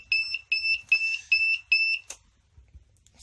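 A still's control panel alarm beeps in five evenly spaced, loud, shrill pulses before it is switched off and falls quiet.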